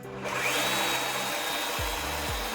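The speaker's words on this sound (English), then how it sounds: "The pendulum cutting motion carves elongated mortises that lock in tight and stay aligned." A Festool Domino DFC 500 cordless joiner cuts mortises into wood, giving a steady, close, continuous high motor whine with a grinding cutting texture and a couple of low thumps near the end.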